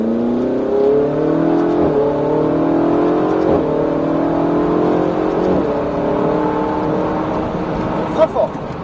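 Ferrari 488 GTB engine pulling hard through gears from inside the car, rising revs repeatedly cut by quick shifts, loud and close, with a brief clatter near the end.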